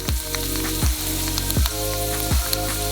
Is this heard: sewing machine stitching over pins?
no